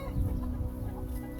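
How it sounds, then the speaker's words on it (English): Baby chickens cluck softly in a garden with bok choy and daikon beds, their faint, scattered peeps and clucks running steadily over a low outdoor background with no talking. "Is that the baby chickens?"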